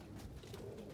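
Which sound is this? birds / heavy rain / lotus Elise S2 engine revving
birds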